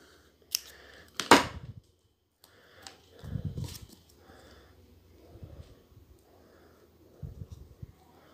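Scissors cutting into a cape, a few sharp crisp snips spread out between quieter fabric handling, close and isolated with no talk.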